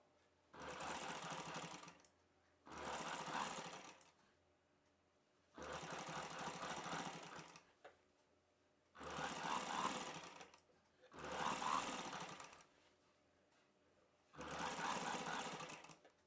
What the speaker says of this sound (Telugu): ఇప్పుడు ఈ నెక్ పై వైపున పెట్టి కుట్టు వేసేసుకోవాలి